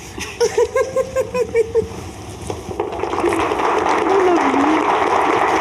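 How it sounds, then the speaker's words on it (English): Wedding guests at an anniversary vow ceremony break into clapping that swells into a dense, sustained round of applause, following a few sharp nearby sounds at the start. "it's probably people clapping, right?"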